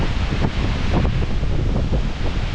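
Yosemite Falls, North America's tallest single-drop waterfall, pours heavily at peak season as a loud, steady roar of rushing, splashing water close by, with no voices.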